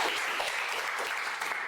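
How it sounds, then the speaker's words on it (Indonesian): Classroom applause for classmates, a steady dense wash of many hands clapping at close range for a couple of seconds, with faint talk underneath. "Tepuk tangan untuk teman-teman semuanya."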